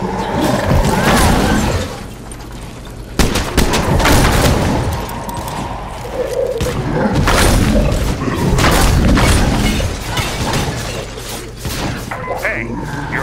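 Shots, booms and crashes from the video game State of Decay 2 during a final wave in the Daybreak DLC, heavy and continuous, with a sharp blast near the middle and a voice speaking over the action.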